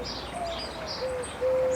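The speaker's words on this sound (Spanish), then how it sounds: "Es tal el alboroto de los pájaros que abandonan o regresan a su albergue nocturno." Birds chirping and calling in a garden at dusk, thin tonal tweets scattered over a faint steady background, growing a little louder toward the end.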